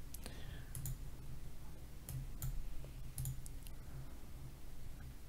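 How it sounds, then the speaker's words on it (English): An Alienware 510M wired mouse gives a handful of sharp, close button clicks at uneven intervals, some in quick pairs, over a faint background hum. "And I can do it multiple times just by clicking the button."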